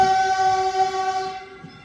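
A Caltrain at Mountain View station sounds a loud, steady multi-tone horn chord that holds close by and then fades toward the end, with a faint rumble of rail traffic beneath it.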